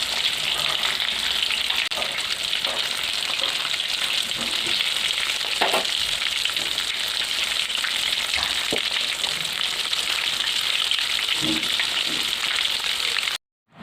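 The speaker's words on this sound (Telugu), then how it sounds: "ఇంకా 2 ఆయిల్లో ఫ్రై అవుతున్నాయి." KFC-style chicken legs deep-fry in oil with a continuous bright bubbling hiss and scattered pops, steady and fairly close throughout before cutting off at the end.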